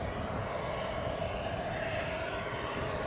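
An EasyJet airliner arriving from Geneva at Newcastle Airport produces a continuous, fairly faint jet engine drone with a steady whine and low rumble at a distance, unchanging throughout.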